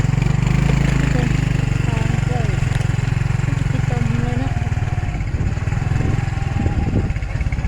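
A small engine chugs loudly and steadily nearby, like a farm tractor running, while a person talks over it.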